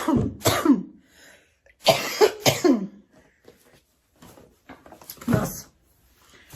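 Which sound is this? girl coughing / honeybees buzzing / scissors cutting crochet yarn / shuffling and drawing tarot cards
girl coughing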